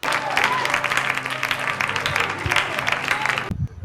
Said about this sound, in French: Ok, applaudissez pour lui.